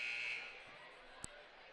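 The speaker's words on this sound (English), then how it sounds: "Buzzer telling them to get ready." Basketball gym buzzer at a varsity high school game, a single fairly faint sustained electronic tone fading out under distant crowd murmur, followed by a brief sharp knock.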